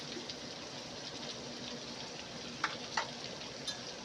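Crushed black peppercorns sizzle gently in melted butter in a pan for a steady soft crackle, with a few sharper stirring clicks near the end.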